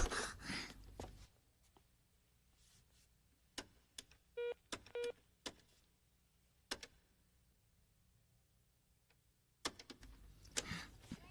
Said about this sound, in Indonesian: Sebelum selesai menekan nomor, suaranya langsung sibuk.